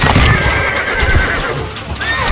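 A horse in the Stronghold Crusader video game gives a loud, close whinny with hoof clip-clop beneath it, filling over two seconds.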